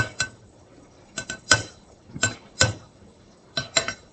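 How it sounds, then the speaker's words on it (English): A pastry blender chopping boiled eggs in a bowl, sharp metallic clinks and taps striking in short irregular clusters, close and distinct against a quiet background. "So I take my pastry blender and cut up my eggs"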